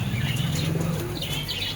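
Andhra pigeons chirping and cooing nearby, short soft calls with faint wing movement over a steady low background.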